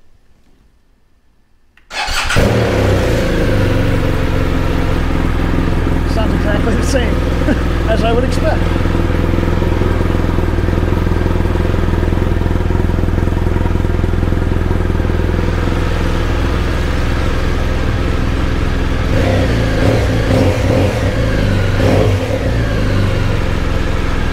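A BMW R1200GS motorcycle engine fitted with Excel Cycle Werkes exhaust extensions starts after a moment of quiet and keeps revving loudly up close, the throaty exhaust rising and falling throughout.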